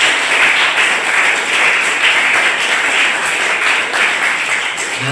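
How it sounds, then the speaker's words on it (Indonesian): Steady, dense applause from a school audience greeting the principal of SMK Negeri 11 Batam at an MPR outreach event, continuous and fairly loud with a bright even wash of many hands throughout. "Tepukan untuk Bu Rosi."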